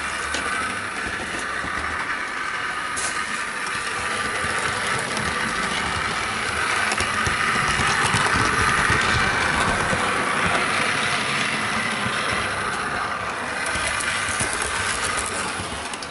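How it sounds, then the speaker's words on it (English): An electric motor hums steadily in a Bachmann Class 40 model locomotive as it runs smoothly along model track, a continuous whirring buzz with faint mechanical rattle that holds at a fairly even level throughout. "No grinding noises or jerky movement. And I love the sound that the motor makes."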